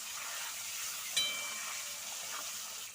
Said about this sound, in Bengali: তো একটু সুন্দর করে ভেজে তুলে নেব।